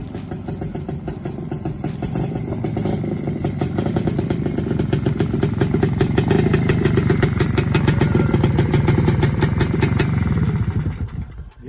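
A restored Pannonia motorcycle engine runs steadily and loudly close by, a rapid rhythmic clattering drone that holds even throughout and cuts off abruptly at the end.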